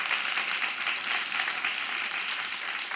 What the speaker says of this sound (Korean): 네, 한번 박수 부탁드릴게요.